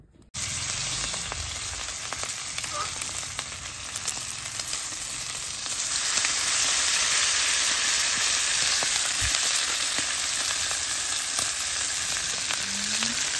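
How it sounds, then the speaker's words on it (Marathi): Fish frying in hot oil on a griddle over a stove flame, a steady close sizzle and crackle that holds for the whole stretch with no voices. "मित्रांनो हे बघा मच्छी आपण टाकलेलं आहे तेलामध्ये"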